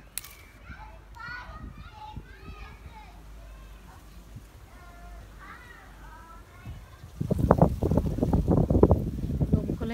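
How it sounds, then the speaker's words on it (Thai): Strong wind buffets the microphone outdoors in Denmark while wild vegetables are picked, rising to a loud rumbling gust near the end, with children's voices and talk throughout. "ลมก็แรงแรง"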